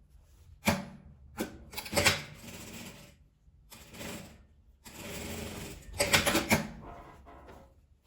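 A sewing machine stitching a fabric tie bag, close rattling runs of stitching in short bursts with pauses between, including a quick backstitch.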